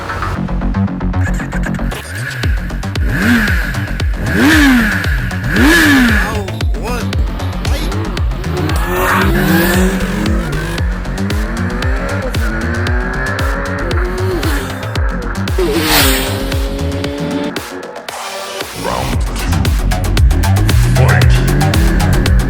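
A Kawasaki Z 1100 streetfighter motorcycle rides along a road, its engine loud and close as it rises and falls through repeated gear changes, with wind rush running throughout.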